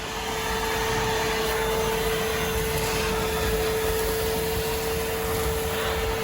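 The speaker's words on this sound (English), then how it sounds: "So let's get the vacuum." A vacuum cleaner sucks dirt out of a central AC outdoor condensing unit, a loud, steady, continuous whir with a constant tonal hum, close and uninterrupted throughout.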